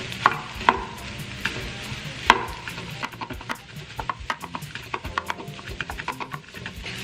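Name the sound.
leftover rice added and stirred in frying pan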